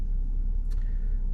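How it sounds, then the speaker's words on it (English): A BMW X5 F15 engine idles at a steady, low rumble close by, with only a brief faint higher tick partway through. "My car is running."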